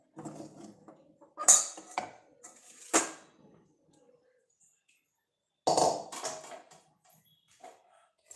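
Cooked semolina is moved into another pot, with metal utensils clinking and scraping against cookware in short, close bursts separated by quiet pauses.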